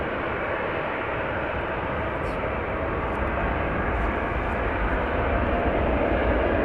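A Boeing 777 takes off from runway 24 at Amsterdam Schiphol, a broad steady jet-engine roar heard from a distance that swells slightly toward the end.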